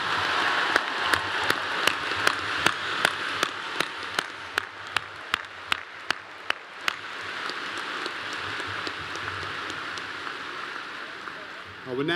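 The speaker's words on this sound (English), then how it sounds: "How about another round of applause for all of our newest graduates?" Audience at a Clemson spring graduation ceremony applauding new graduates, a steady broad wash of crowd clapping punctuated by a regular series of sharp individual claps or taps over the first several seconds, continuing evenly to the end.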